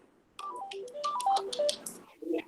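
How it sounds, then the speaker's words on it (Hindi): A mobile phone rings with an incoming call during a lecture, playing a short melodic ringtone of quick stepping tones, fairly clear and close with no talking over it. "मेरा टेलीफोन आ रहा है"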